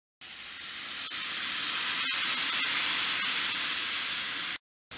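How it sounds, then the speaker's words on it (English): Steady loud sizzling hiss of chicken frying in hot oil on an outdoor stove, close by, with a few faint clicks and a brief cut near the end. "I'm just out here frying up some chicky tacos on the trusty old Martin"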